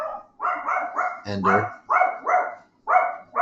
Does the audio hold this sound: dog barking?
yes